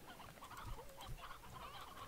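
Chickens cluck softly in the video game Slime Rancher, with a few scattered clucks over low, faint background game sound.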